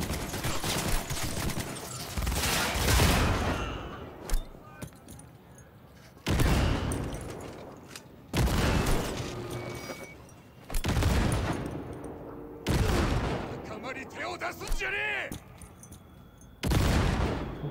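Gunfire from a gun in Cyberpunk 2077: repeated loud bursts of rapid shots arrive every couple of seconds, separated by quieter stretches of ambient game noise.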